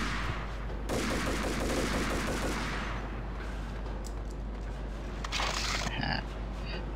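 Dense, loud gunfire from the video game Max Payne rattles in rapid bursts, with a heavy volley early and sharper scattered shots and clinks toward the end.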